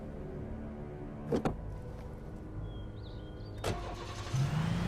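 A car engine in the video game Alan Wake starts with a couple of short cranking bursts, then settles into a low, steady idle beneath continuous ambient game noise.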